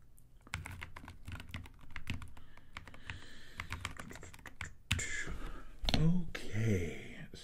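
Close, crisp typing on a computer keyboard during a hotel check-in, rapid clicks in bursts, followed by a soft whispery breath and quiet speaking near the end.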